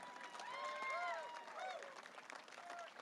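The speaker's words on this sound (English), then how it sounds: "A round of applause." Applause and cheering from a motor-race crowd in Toronto for a USF 2000 race winner, moderately loud and steady, with whistles rising above it and voices mixed in.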